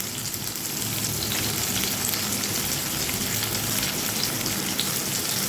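Potatoes and ridge gourd sizzling steadily in a hot frying pan, a dense continuous crackle and hiss with no voices.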